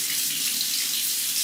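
Water runs steadily from an RV faucet just after a water heater repair, a close, even rushing hiss that holds for the whole stretch with no voices.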